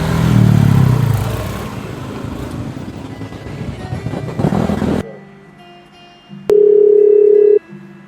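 A telephone ringing with an incoming call follows a stretch of louder background noise, the ring a steady electronic tone lasting about a second, clear and close in an otherwise quiet scene.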